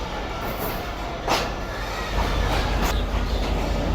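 A train stands at a railway station, a full rake of coaches parked at the platform, amid a continuous loud rumbling hum of idling equipment and station ambience, with a few faint clanks.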